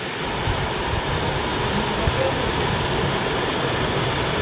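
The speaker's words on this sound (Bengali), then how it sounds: "সারাদিন আজ বৃষ্টি হচ্ছে" Heavy monsoon rain falls steadily in the hills of Keonjhar, Odisha, as a dense, unbroken hiss that stays even and loud throughout, with no voices heard.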